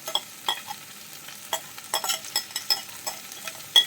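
Chopped onion hits a pan of ivy gourd thoran being stir-fried, giving soft sizzling with repeated sharp scraping stirs of a spatula, close and fairly quiet, in irregular strokes.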